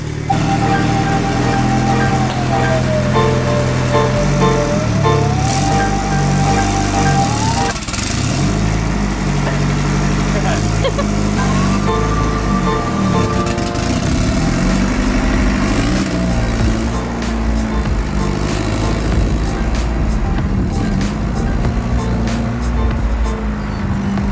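Twin-turbo Honda Civic engine running on its regular ECU, loud and close, a rough steady drone with pitch swells from revving and whine throughout, people talking faintly over it.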